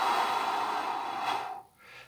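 Slow, deep conscious breath drawn close to the ear, a long airy rush lasting most of the moment, then a brief pause and the start of another breath.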